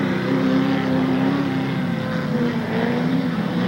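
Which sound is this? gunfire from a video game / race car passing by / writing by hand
race car passing by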